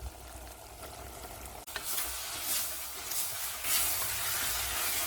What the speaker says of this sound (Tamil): இப்போ கறியை சேர்த்துடலாம்